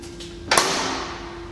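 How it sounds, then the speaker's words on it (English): The bonnet of a 1901 Wolseley 10hp tonneau is shut with a single sharp metallic clunk, close by, followed by a fading ring over a steady background hum. "Right, now the fuel system is primed to go, we'll shut the bonnet."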